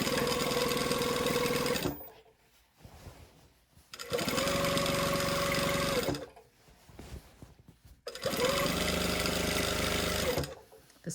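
A sewing machine topstitches a trench coat in three long, steady runs of fast whirring stitching, each roughly two seconds long, separated by quiet pauses.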